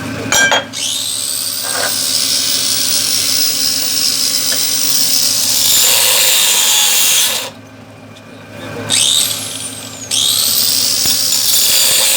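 An angle grinder runs near a homemade generator, a loud, high whine that spins up, holds steady, cuts out briefly around two-thirds of the way through and then revs back up.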